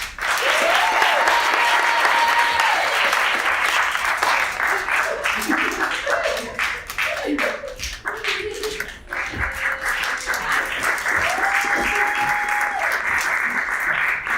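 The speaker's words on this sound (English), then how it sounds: "please give a round of applause for our 3 guests." Studio audience applause for three guests on a comedy show, loud dense clapping that runs throughout with cheering voices and whoops mixed in.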